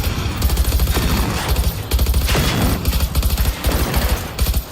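Automatic weapon fire in Generation Zero rattles out in several sustained bursts separated by brief pauses, loud and close, with sharp, crackling repeated shots.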